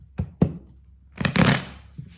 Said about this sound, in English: I'm just gonna shuffle up and then cut it.